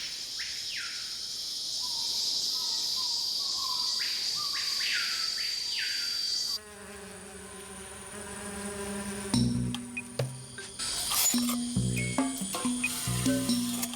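Rainforest insects from the canopy and forest floor fill the first half with loud, steady chirping and pulsing buzz, after which the scene gives way to tonal, music-like sounds.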